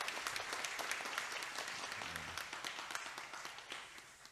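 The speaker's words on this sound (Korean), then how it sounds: "좀 수고해주신 집사님께 다시 한번 박수 해주시면 감사하겠습니다" A church congregation claps in applause during a service, a dense steady patter of many hands at low volume that thins slightly toward the end, with a faint murmur of voices beneath.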